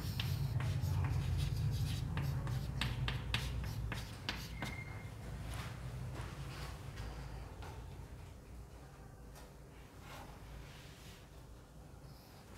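Chalk or marker tapping and scratching across a board in a physics lecture on thermodynamics, a scattered run of light ticks and rubs over a low room hum, quiet and fading, without talk.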